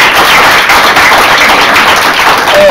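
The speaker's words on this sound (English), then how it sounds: "Clap your hands for my boy." Audience clapping hands at a church gathering, a dense, continuous wash of applause that stays loud and steady throughout with no pauses.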